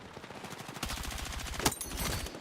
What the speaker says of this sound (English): Oh my God, I got sniped at, chat.